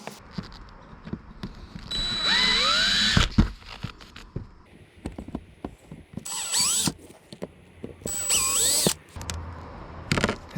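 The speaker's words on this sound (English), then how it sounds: "I'll use a smaller drill bit to make a pilot hole." A power drill bores a pilot hole for mounting a curved LED light bar on a 4x4 Sprinter van, with several short whining bursts rising and falling in pitch, separated by clicks and handling noises.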